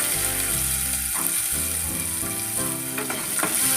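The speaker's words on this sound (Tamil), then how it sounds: "அந்த எண்ணெயிலே ஒரு கைப்பிடி சின்ன வெங்காயம் போட்டுக்கலாம்" A handful of small shallots fry in hot oil in a kadai, a loud, dense sizzle filling the space with a low rumbling hum beneath and occasional crackles, close up and continuous without talk.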